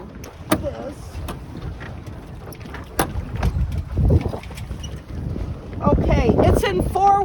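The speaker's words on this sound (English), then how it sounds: "I'm going to put the engine in the water now." A sailboat's outboard engine is lowered into the water, giving clunks and splashes against steady wind noise on the microphone, with louder watery sloshing toward the end.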